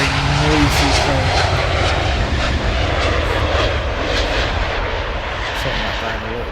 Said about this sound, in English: With the sound of that plane.